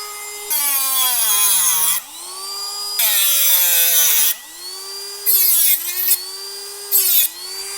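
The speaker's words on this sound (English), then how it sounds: "We cut some of the ear off the servo." A power tool cuts the plastic mounting ears off a Savox servo during a Traxxas X-Maxx 8s upgrade. It makes a loud, close, high-pitched whine in several bursts, with the pitch dropping each time the tool bites into the plastic, and there is no talk.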